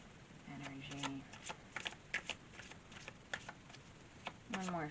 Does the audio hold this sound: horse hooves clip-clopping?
no